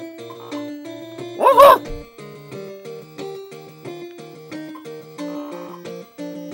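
A dog barks in the Doraemon video game, one short loud burst of barking over looping chiptune-style background music that continues steadily before and after.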